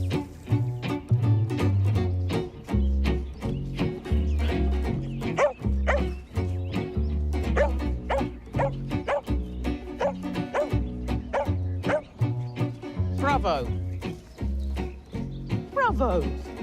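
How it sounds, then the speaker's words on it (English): A dog barks in repeated sharp, loud bursts at close range, mixed with whimpers and yips, while people talk over it. "That was intense barking in the face."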